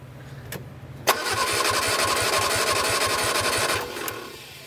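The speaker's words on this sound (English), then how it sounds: "I have the carbs back on. Let's see if it'll start." An old barn-find Austin-Healey Sprite with freshly refitted carburetors and chokes held up cranks briefly, then catches and runs with a loud, steady, throbbing engine note close by before cutting off, with no talking.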